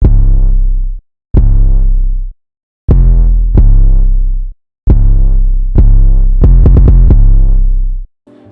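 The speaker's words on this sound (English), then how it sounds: "and this is the 808, and it sounds a bit like this." A deep, loud 808 bass in a bouncy hip-hop beat: long booming notes that sustain and decay, separated by short gaps, with a quick run of stuttering hits near the end.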